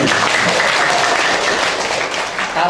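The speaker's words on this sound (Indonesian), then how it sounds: "Tepuk tangannya mana?" An audience of teachers at a dialogue session in East Lombok breaks into loud, sustained applause, a dense crowd of hands clapping steadily throughout with no pause.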